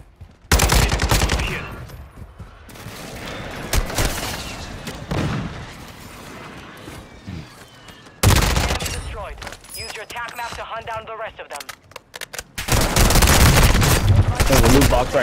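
Bursts of automatic gunfire from an F10 in the Warzone video game, loud and close, arriving in several separated volleys with quieter gaps of game noise between them, and a voice talking over parts of it.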